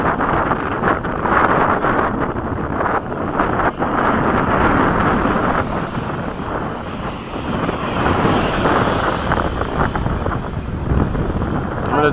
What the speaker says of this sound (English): Whoa, big wind.